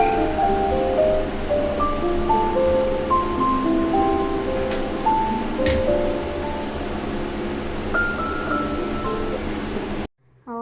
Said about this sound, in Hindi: एग्जॉस्ट फैन भी खुला हुआ है तो शोर थोड़ा सा ज़्यादा आ रहा होगा वीडियो में